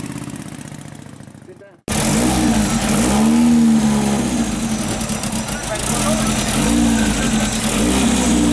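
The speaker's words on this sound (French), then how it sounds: "Sous licence Morgan, c'est une Darmon fabriquée en France." A 1923 Darmon sports car built in France under Morgan licence drives close by after a brief quiet start, its engine note loud and steady with rising and falling revs, while voices talk over it.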